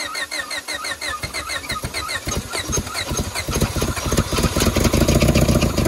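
Honda car engine cranking with rapid rhythmic starter chugs that catch and build into a loud, rising rev, close by and with no talk over it.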